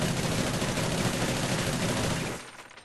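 Submachine gun in Call of Duty: Ghosts firing one long, dense continuous burst from the hip and down the sights, loud and close, cutting off abruptly near the end with no talking.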